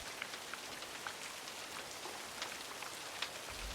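Steady rain falling, a soft continuous patter of drops at low level with no voices.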